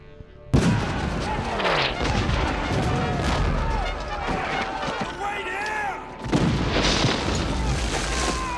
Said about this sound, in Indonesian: serangan meriam itu tidak berhenti melakukan cecaran